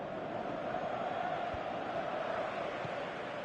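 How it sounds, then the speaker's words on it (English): Steady stadium crowd noise from a PES 2018 football match, a continuous broad roar holding at an even level throughout with no distinct cheers or peaks. "you can feel and hear how the crowd are reacting to all of this."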